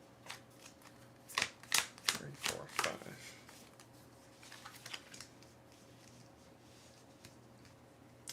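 A quick flurry of crisp card snaps and riffles, close by, during a game of Aeon's End: Legacy, followed by quieter scattered clicks and faint background chatter.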